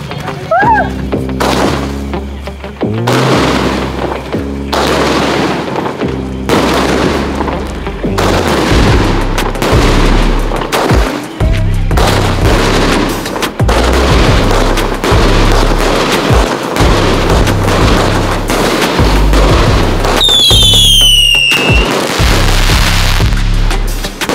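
Mega XL firecrackers burst in a rapid string of loud, deep booms that go on almost without pause, close by, with excited voices shouting between blasts and a whistling streak late on.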